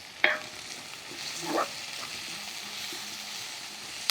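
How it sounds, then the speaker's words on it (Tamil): Food frying in groundnut oil for a prawn and greens dish, a soft steady hiss with a few sharp spatula clinks and stirring scrapes, fairly quiet with no talking. "இது கொஞ்சம் நல்லா ஃப்ரை ஆகட்டும்."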